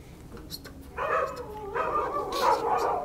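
Several dogs in a forest bark and yelp in two close bursts over a quiet background, the second burst louder and more excited.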